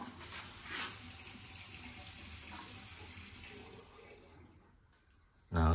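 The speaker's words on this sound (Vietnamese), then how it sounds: "Đó, các bạn thấy nước thoát á." Water rushes steadily through a new anti-odor sink drain, a close, continuous gush that thins out and then ends with a sudden loud knock.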